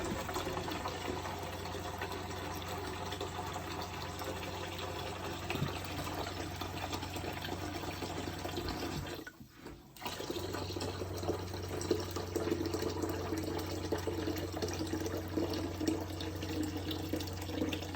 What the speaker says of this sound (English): I'm purging the cold water line on the water heater